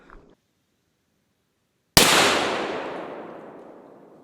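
A single loud shotgun blast with a Kent Fasteel Plus steel waterfowl load, fired at a pattern target 40 yards away, rings out after near silence and fades in a long echoing tail.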